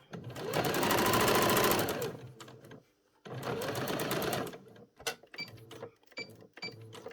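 A sewing machine stitches around the curved lapel of a school blazer in two steady whirring runs, followed by a few short stop-start bursts with brief pauses, heard up close.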